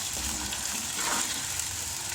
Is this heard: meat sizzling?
yes